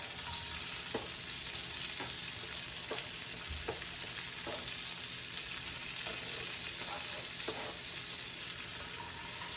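Jalapenos and bacon fry in a pan for breakfast quesadillas, giving a steady, dense sizzle that stays loud throughout, broken by soft scraping taps as they are stirred.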